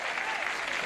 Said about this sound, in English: That's right, crowd. Give it a hand.